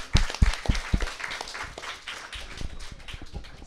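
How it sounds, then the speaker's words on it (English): A community gathering applauds, with a few loud, close claps at first giving way to scattered, softer clapping that tapers off over a few seconds. "give Mike Sarah a big round of applause"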